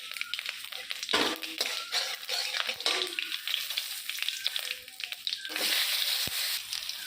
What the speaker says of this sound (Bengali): সাদা জিরা আর কালির জিরা ফোড়ন দেব।